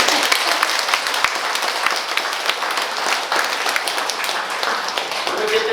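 A temple congregation at a Buddha's Birthday sermon breaks into sustained, dense clapping that carries loud and steady from start to finish, with a few sharper individual claps standing out.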